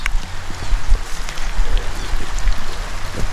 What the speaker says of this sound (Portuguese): Já tá chovendo.